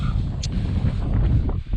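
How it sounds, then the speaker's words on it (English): Wind buffets the microphone in a big open field at a dog park, a steady loud low rumble with no pauses. "sorry about the wind. It is very windy here in the field."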